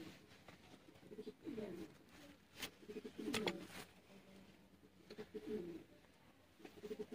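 A pigeon coos close by in repeated low, rolling phrases separated by short pauses, with a few faint clicks and rustles around it.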